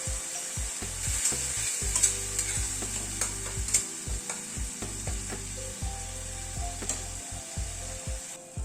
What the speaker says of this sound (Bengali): টমেটোটা দিয়ে ভালো করে কষিয়ে নেব